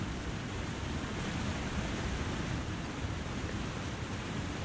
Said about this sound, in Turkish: Sağdaki şelale sesi beni bıktırdı.